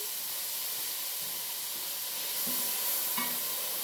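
Butter and onions sizzle in a pot, a steady faint hiss of frying with a couple of soft clinks near the end.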